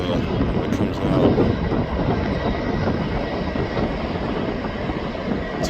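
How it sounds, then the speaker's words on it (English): A Norfolk Southern coal train rolls past at a distance on an elevated curve in Vermilion, Ohio, with a steady, dense rumble and rhythmic clatter of wheels on rails, holding even throughout. "a coal train. Good catch on that locomotive."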